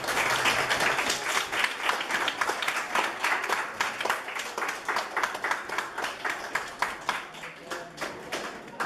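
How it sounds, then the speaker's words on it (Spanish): Schoolchildren at a rural school event give a strong round of applause, steady close clapping from a group that gradually thins toward the end, with some voices underneath. "yo quiero que estos niños les den a ustedes un fuerte aplauso"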